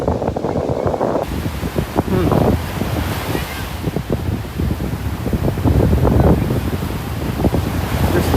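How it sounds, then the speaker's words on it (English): Strong wind buffets the microphone on a beach in North Naples, Florida, while ocean waves break and wash ashore, loud and continuous with gusty bursts and rumbling surf. "Just lots of wind and waves."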